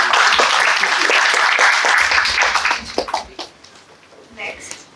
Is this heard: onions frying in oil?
no